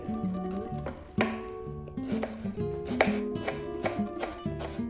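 Half an onion sliced thin with a sharp knife, rapid continuous chopping strokes on a board, close and fairly loud, with some tonal background music underneath.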